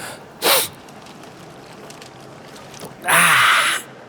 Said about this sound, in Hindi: हाथ सामने रख के छींक बे।